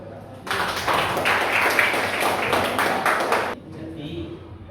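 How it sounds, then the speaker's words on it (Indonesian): A classroom of students claps together after their teacher's request, a dense burst of many hands lasting about three seconds and then cutting off sharply, with faint talk before and after. "Beri tepuk tangan."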